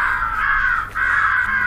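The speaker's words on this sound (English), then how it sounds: "only two crow calls" Two drawn-out, harsh crow caws played from a Primos Turbo Dogg electronic caller, loud and close, separated by a brief dip, with no talk.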